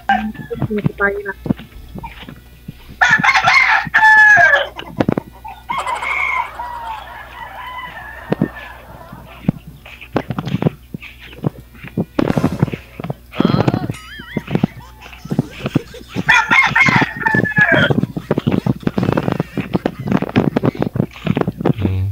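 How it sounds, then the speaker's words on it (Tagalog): Chickens and roosters on a farm crow and cluck loudly and repeatedly nearby, with several overlapping calls and people talking in between. "Maingay kasi yung mga manok dito."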